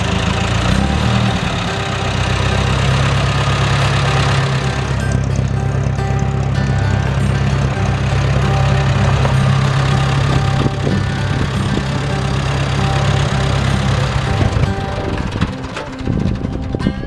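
An old compact 600 series tractor engine idles in a steady, loud mechanical drone that holds throughout with little change.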